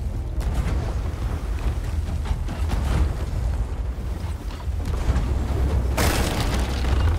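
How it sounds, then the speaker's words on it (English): Blunderbomb blasts in a Sea of Thieves ship battle, a dense run of booming explosions one after another, loud and continuous amid rumbling game noise with no voices. "Blunder bomb, spam them."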